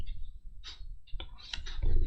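Keys tapped on a computer keyboard to send serial commands while running an Arduino simulation in Proteus: a few sharp, close clicks spaced irregularly over a soft background hum.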